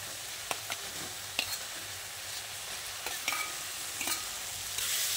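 Fried potatoes and pointed gourd are stirred into a sizzling masala in a pan, the steady frying hiss punctuated by several sharp clicks and scrapes of the spoon against the pan.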